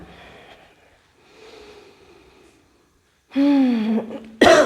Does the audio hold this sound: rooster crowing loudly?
no